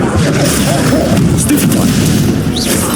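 A Bombarda explosion spell in Hogwarts Legacy, heard as a loud, dense booming blast that sustains thickly throughout amid chaotic combat effects, with a voice shouting briefly.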